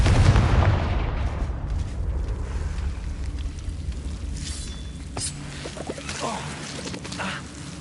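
The Confringo explosion spell in the video game Hogwarts Legacy sets off a heavy booming blast that rumbles and fades, followed by scattered crackling debris and impacts.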